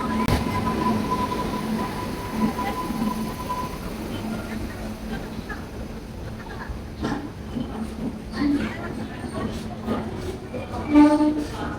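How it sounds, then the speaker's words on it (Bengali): A train pulls into NJP railway station, a steady rumble of rolling carriages with a long tone early on and sharper clanks and squeals later, all under a busy platform din with people talking. "এতক্ষণ পর ট্রেনটা ঢুকলো।"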